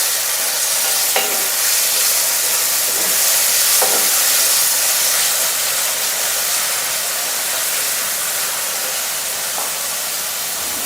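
Two medium tomatoes and three to four chopped green chillies sizzle steadily in a hot pan for a potato and capsicum dish, with a continuous bright hiss and a few soft stirring scrapes, close and loud with no talking.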